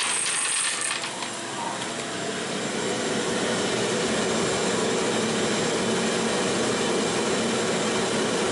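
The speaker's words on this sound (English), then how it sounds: "dumps the paint into the wind of the shop vac, blowing the paint across the canvas" A shop vac blows a strong stream of air to push paint across a canvas, producing a loud, steady, close-up roaring whoosh that holds unbroken from start to finish.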